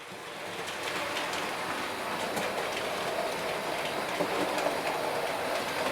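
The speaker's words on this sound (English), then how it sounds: "You're going to get all three train sets" Three Bachmann model train sets trundle around a model railway with insulfrog points, making a steady, close rolling rumble with faint clicking of wheels over track joints throughout.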